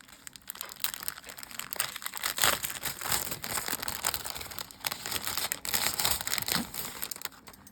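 Plastic packaging around a set of dice crinkles and crackles as it is pulled open by hand, a close, continuous rustling with sharper tearing bursts and no talking.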